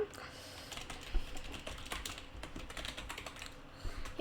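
Typing on a computer keyboard while writing a script, with irregular clicking keystrokes close up at moderate level and a few louder key hits.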